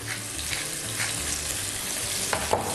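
Chopped onion and carrot frying in a very hot pan, a steady close sizzle with soft stirring scrapes and a few brief clicks.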